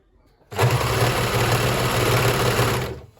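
A sewing machine stitching fabric with elastic starts abruptly and runs in one continuous close, loud whirring burst with a rapid rhythmic needle pulse, then slows and stops.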